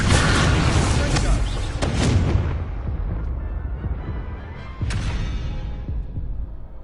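Incendio fire spell cast in Hogwarts Legacy, heavy booming blasts with a crackling fiery rush, repeated bursts early, then a fading tail and another sharp hit near the end.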